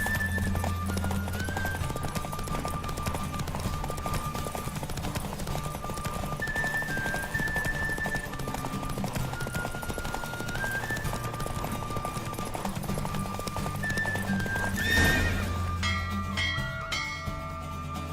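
Hooves of a horse racing in The Witcher 3 video game, a steady clip-clop beat running throughout over a low rumbling game score, with a brief louder swell near the end.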